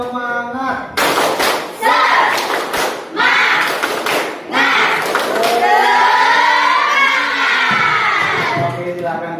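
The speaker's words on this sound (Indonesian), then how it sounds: "Bapak ya tepuk semangat baru kalian memulai ya." A school class does a rhythmic spirit clap in bursts, with children's shouts and cheers mixed in. The group chanting rises loudly near the end.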